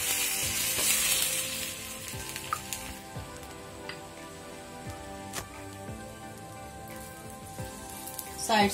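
Rava dosa batter sizzles in oil on a hot tawa, with a steady crackling hiss that is loudest at the start, while a spoon taps and scrapes at intervals. No one speaks.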